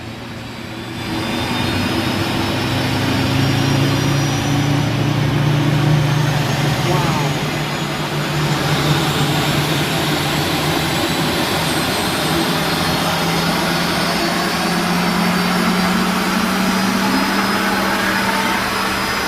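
An aircraft's left jet engine winds up into a loud, steady whine and roar that holds for a long stretch; a voice briefly exclaims over it.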